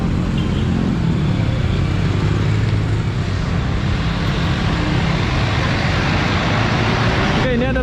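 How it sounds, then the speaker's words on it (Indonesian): A Trans Batam city bus passes along a busy street in Jodoh, Batam, its engine blending into a loud, continuous roar of nearby traffic while someone talks. "Oke, ini adalah bus Trans Batam."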